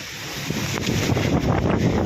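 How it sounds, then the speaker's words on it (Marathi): Steady wind rushing and buffeting across the microphone, a continuous broadband roar with gusty swells, no voices. "वारा दिवसभर सुटत या"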